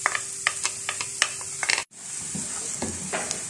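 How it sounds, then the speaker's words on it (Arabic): Chopped large onion fries in oil in a pan, a close, soft sizzle broken by light clicks and stirring scrapes, with a brief drop to near silence midway. "كنكبو فيها شوية ديال الزيت، كنحطو فيها هاد البصلة كبيرة مشلضة"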